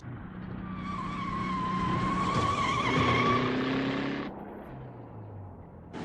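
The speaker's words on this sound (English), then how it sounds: "Boy, that car can really move." A race car screeches and skids at speed, tire squeal rising and sliding over a loud engine roar that swells, peaks and then eases away, with no talk over it.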